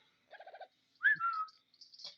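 A parrot whistles up close with no talking: a quick run of short, evenly spaced chirping notes, then a loud sliding whistle, a brief pause and a final burst of bright twittering.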